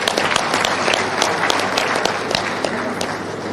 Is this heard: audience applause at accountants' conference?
yes